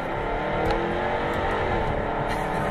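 A Jaguar F-Type R with a 5-liter supercharged V8 roars steadily and loudly under acceleration, a dense continuous engine note with no talking.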